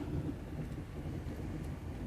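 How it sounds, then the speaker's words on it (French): A low, faint rumble of distant thunder from a stationary storm over the sea rolls continuously throughout, soft and muffled with no other sounds. "Ah, un petit tonnerre assez..."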